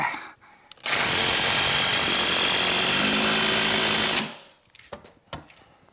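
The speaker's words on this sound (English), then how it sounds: "I'll put a few extra screws in." A power driver whirs steadily for about three seconds while sinking screws to fix a workshop counter to the wall, a loud close continuous drone that starts and stops abruptly, followed by quieter handling knocks.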